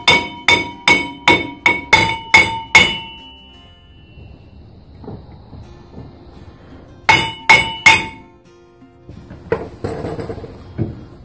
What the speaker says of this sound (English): We're going to give it a gentle tap.